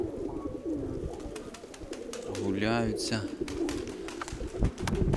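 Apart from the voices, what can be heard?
pigeons cooing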